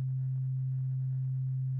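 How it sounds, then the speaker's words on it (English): A voltage controlled oscillator in an Ingen modular synth setup produces a single steady low sustained tone, unbroken and even in level from start to finish. "The first sound generator I'm going to add is a voltage control oscillator."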